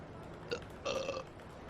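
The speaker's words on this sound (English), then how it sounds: "I did want a second but different burp to occur right then and there" A soft, subtle person's burp close to the mic, a quick catch followed by a slightly longer rumbling belch, set against a quiet background.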